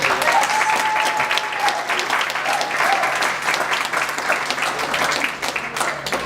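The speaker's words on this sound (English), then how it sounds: "I think we should give Morgan a round of applause." Wedding guests break into loud, sustained applause, a dense crowd of clapping hands with a few cheers, holding steady for several seconds before tapering slightly at the end.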